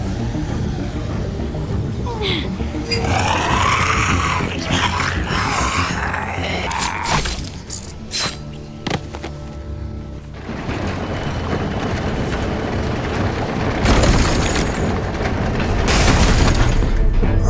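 Cart pushed into a crash in The Walking Dead: The Final Season video game, a loud, sustained jumble of rolling, banging metal and booming impacts with a heavy crash near the end.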